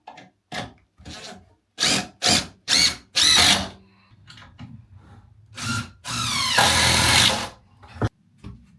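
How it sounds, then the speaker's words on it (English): A power drill drives screws into a wooden frame for a double or triple beehive stand, whirring in several short close bursts and then one longer, louder run near the end. "all we've got to do, because we've already got the screws in, is just screw those together"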